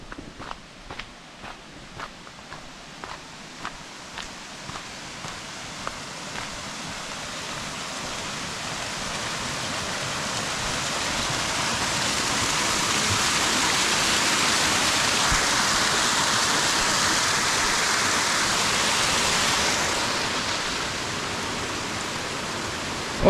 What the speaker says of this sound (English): just check out the color of this water and the waterfall over there